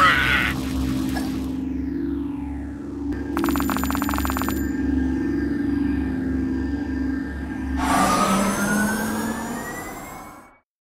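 Ambulance siren in the video game Kick the Buddy, a bright electronic wailing tone rising and falling over a low steady hum, fading out abruptly with a rising sweep at the end.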